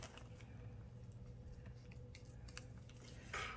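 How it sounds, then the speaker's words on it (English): Scissors snip through a ribbon bow with a few short, quiet cuts over a low background hum, one crisper cut arriving near the end. "let me actually cut this down to size."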